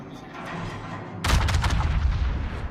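Naval ship guns firing in World of Warships gameplay: a sudden heavy boom bursts in after a low rumbling background, then rolling cannon blasts and rumbling echoes, loud and close.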